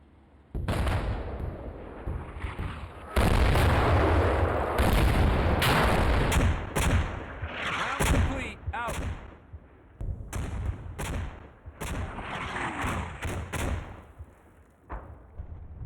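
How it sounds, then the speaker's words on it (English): Artillery barrage in the Cold War wargame Combat Mission Cold War, loud close booms and rapid gunfire bursts overlapping in dense volleys, then scattered sharper cracks and thuds trailing off over about fifteen seconds. "This is where the artillery has an effect."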